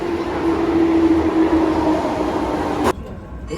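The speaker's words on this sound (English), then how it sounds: "This is a limited express train bound for Osaka Yodoyabashi." A limited express train in Japan rumbles steadily and loudly nearby, with a sustained mechanical hum and rail noise that drops off abruptly near the end.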